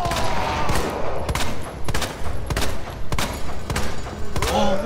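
Gunfire in the video game Resident Evil 2 Remake, a dense run of loud booming shots and thuds about every half second to second, with game effects underneath.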